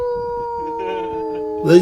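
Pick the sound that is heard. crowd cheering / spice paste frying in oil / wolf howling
wolf howling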